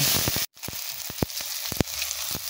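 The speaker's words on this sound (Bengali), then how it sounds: "এর উপর দিয়ে দিলাম টমেটো আর লঙ্কা কুচোনো, দিয়ে ভালো করে এটা কষিয়ে নেব।" Chopped tomato and green chilli hitting fried onions in a hot pan: a strong continuous sizzle, briefly cut off, then resuming with sharp stirring knocks and clatters at irregular intervals.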